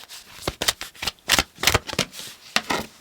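A deck of tarot cards being shuffled up close, with a run of crisp riffling bursts and soft slaps coming in quick, uneven succession.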